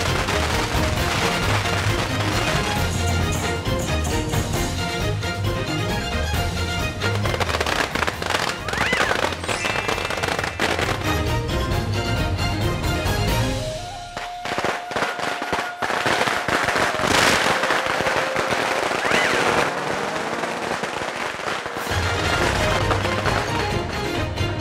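Firecrackers go off in dense, rapid strings of sharp cracks during a vegetarian festival procession at a shrine in Ranong, Thailand, loud and close almost throughout, with a brief lull midway and faint voices underneath.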